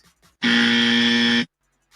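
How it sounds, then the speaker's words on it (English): A loud, harsh electronic buzzer blares for about one second, a single flat sustained tone that cuts off abruptly into silence. "Can we get them the dummy buzzer, please?"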